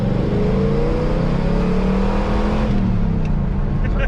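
An LS-swapped DeLoreans engine and exhaust roar loudly as the car accelerates hard, a deep rising drone climbing steadily through the revs before easing off toward the end.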